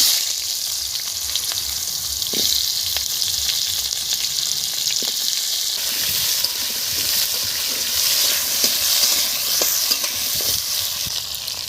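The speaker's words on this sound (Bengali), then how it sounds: "তেল গরম হয়ে গেছে, জিরে ফোড়ন দিয়ে দিলাম, আলুগুলো দিয়ে দিলাম" Cumin seeds and potatoes sizzle in hot oil in a pan, a steady bright crackling hiss with occasional stirring clatters and pops, close and continuous without talk.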